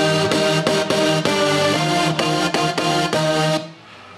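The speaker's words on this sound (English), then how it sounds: "So the first synth kicks in," Electronic dance synth from a trance-style remix production enters with a bright, dense rhythmic pattern of stabbing chords over a steady pulse, loud and upfront alone, then cutting off near the end.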